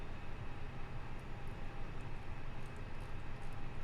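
Steady broadband cabin drone of a fly-by-wire Airbus A320 in Microsoft Flight Simulator, an even continuous rumble with faint high ticks on top, no voices.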